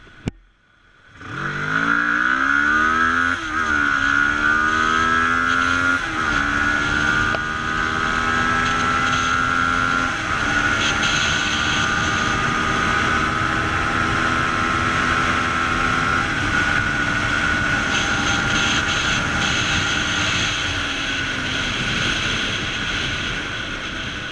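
A Kawasaki ER6n motorcycle engine roars up through the gears, pitch climbing and dropping with each shift, then holding a loud, steady high-speed drone with wind rush.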